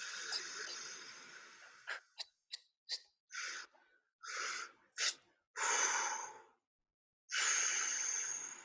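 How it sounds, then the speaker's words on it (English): Breathing during a guided light language meditation: several short, sharp breaths are followed by long, deep airy inhales and exhales, close and clear, with silent pauses between them. "Big deep breath in and out of the heart."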